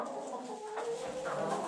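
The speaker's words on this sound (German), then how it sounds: "Ja, neue Hühner." Newly arrived hens on a small farm cluck softly and continuously, a close, low murmuring of fowl with a few higher calls rising out of it, fairly quiet and without talk.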